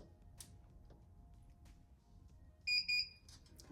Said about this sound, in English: You'll hear 2 beeps.